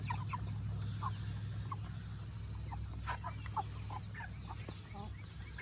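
Seven-week-old Cornish cross meat chickens in a barn, a flock giving scattered soft clucks and chirps over a steady low hum of fans or equipment.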